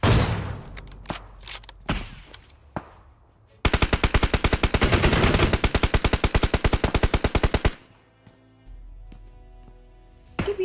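Rapid automatic gunfire from the video game Battlegrounds Mobile India, with scattered single shots and thumps before a loud sustained burst of several seconds, then sparse shots afterward.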